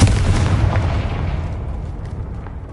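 Confringo blast spell from the Hogwarts Legacy video game, a single loud booming explosion that hits at once and then fades in a long rumbling decay.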